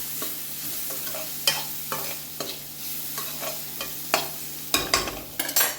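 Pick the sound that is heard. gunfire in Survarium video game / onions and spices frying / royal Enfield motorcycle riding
onions and spices frying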